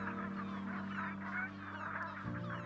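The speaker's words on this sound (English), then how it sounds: "They arrive in flocks from Siberia and Scandinavia. Barnacle geese." A winter flock of barnacle geese on the North Sea gives repeated overlapping honks, faint and at a distance, over a steady low musical drone.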